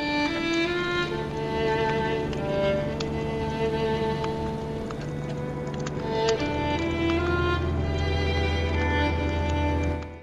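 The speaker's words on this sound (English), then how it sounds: "Come close enough, and you'll discover him playing a gentle melody that sounds like this." A merchant character in the video game Elden Ring plays a gentle, sustained melody on a stringed instrument, heard amid a dense wash of ambient game sounds and low rumble.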